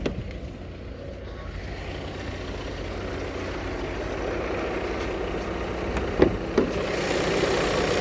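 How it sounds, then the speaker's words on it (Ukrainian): A 2020 Volkswagen Touran 2.0 TDI diesel engine idles steadily with a low, even rumble, close by, with a couple of faint clicks near the end. "Двигунчик працює, як кажуть, як швейцарський годинник, тихесенько."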